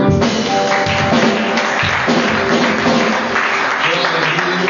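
A church congregation claps and cheers in a steady continuous burst under a pastor's amplified voice and music, filling the whole moment without a break.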